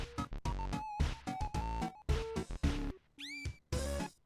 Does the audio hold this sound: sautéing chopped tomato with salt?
no